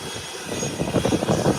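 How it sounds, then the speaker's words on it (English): A Beechcraft 1900 turboprop touches down out of Grand Turk, its engine roar rising into a pulsing, uneven rumble that swells over the second half of a short burst, fairly close and loud. "it's touching down. And it's on the ground. Here you have it. Beechcraft 1900 out of Grand Turk"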